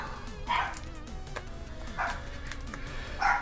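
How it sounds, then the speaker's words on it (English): Several dogs barking a few times in the background indoors, distant and moderately loud, spaced out with quieter stretches between yelps. "And that's my dogs in the background."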